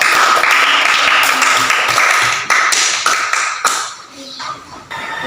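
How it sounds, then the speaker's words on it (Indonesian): Classroom applause follows a group presentation, a burst of close clapping and tapping that starts strong, thins out and tapers into scattered claps over about five seconds, with some voices mixed in. "tepuk tangan"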